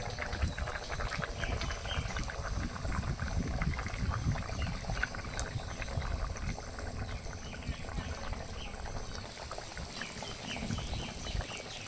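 A pot of fish curry broth bubbles and sizzles steadily at a boil, a dense, continuous churning noise with no pauses.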